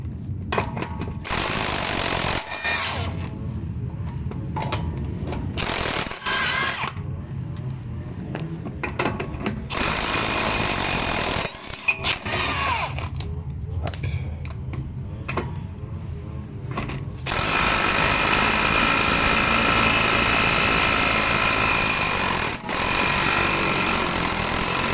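Loud, sustained rattling hammer of a power tool removing wheel bolts from a Suzuki Swift Sport, running in long bursts with short pauses between, close up and with no talk.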